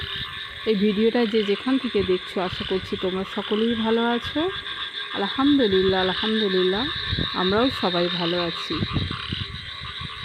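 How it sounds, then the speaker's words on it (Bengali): Loud, repeated frog croaks in rhythmic bursts over a steady high cricket drone, while a person talks throughout. "দেখো ঝিঝি পোকার ব্যাঙের ডাক"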